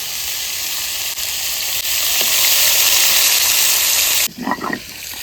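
Live aam shol fish fries in a hot pan with a loud, steady hissing sizzle that swells midway, then cuts off abruptly near the end, leaving a few faint clatters.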